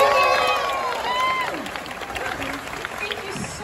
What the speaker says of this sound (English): Let's give a big round of applause for Serena Arvizu, everybody.